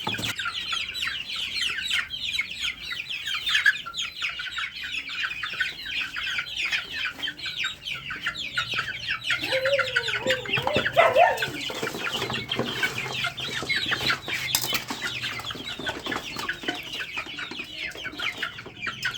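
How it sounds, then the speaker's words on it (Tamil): Chickens and chicks cluck and chatter continuously close by while being fed, a busy flock sound with scattered pecking noises and a brief louder squawk midway. "இங்கே தான் நம்ம பெரிய கோழி குஞ்சுங்க இருக்குது"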